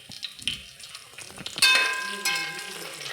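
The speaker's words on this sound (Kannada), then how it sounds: "ಫ್ರೈ ಮಾಡ್ಕೋಬೇಕು." Whole spices (bay leaf, fennel, mace, cloves, marathi moggu) frying in hot oil in a pan: a sharp sizzling burst that rises partway through and continues steadily, with a few light metallic clinks of utensils.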